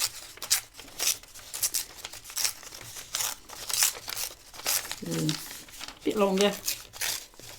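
Tape pulled and torn by hand on an art journal page, crinkly ripping and crackling bursts close by, with a voice speaking briefly over it.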